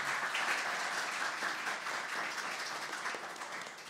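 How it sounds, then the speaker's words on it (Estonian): An audience at a panel discussion on administrative reform in Orissaare gives a short burst of steady applause from many hands, fading slightly toward the end. "Aplaus."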